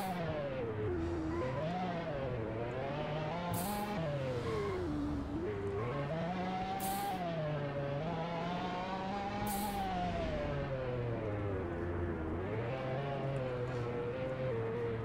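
A Lamborghini Aventador drives in a Roblox game, its engine droning steadily while the pitch rises and falls with throttle changes for the whole stretch, with a few brief sharp noise bursts over the top.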